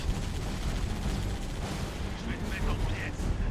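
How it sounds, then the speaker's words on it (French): Heavy weapon fire hits a turret in the Halo Reach video game as a loud, continuous barrage of booming shots and explosions, with a voice briefly talking over it near the end. "Pourquoi tu tires sur la tourelle toi mec?"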